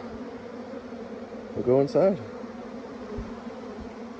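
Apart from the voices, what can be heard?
bees buzzing while being flushed out of a box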